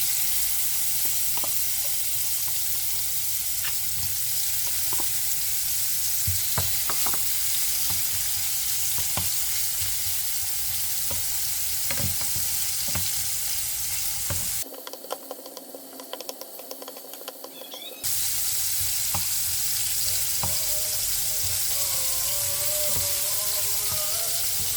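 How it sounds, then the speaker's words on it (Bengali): Shrimp coated in salt and turmeric fry lightly in a pan, a continuous sizzle with scattered spatula taps and scrapes, dropping to a brief near-silence partway before the frying resumes. "এখন হালকাভাবে ভেজে নিব"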